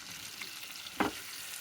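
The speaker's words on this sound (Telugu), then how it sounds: "మీడియం ఫ్లేమ్లో వేయించుకోవాలండి." Food frying in a pan over a medium flame, a soft steady sizzle with a brief louder stir or clatter partway through, close and without talk.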